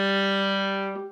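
A single viola note held smoothly for about a second, bright and close, then fading at the end, from a turn with grace notes in Suzuki Book 3's Gavotte; no talking.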